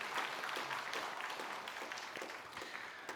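A church congregation applauds to welcome and encourage ministry staff during an Easter service, giving a sustained patter of many hands with scattered sharper claps that slowly thins out.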